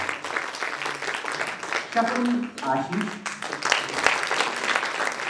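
Audience applause for the actors of a new stage production, a steady patter of clapping that continues throughout while someone speaks over it.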